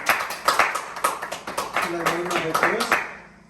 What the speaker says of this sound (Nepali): हामी जोडले ताली बजाएर परमेश्वरलाई धन्यवाद दिन्छौँ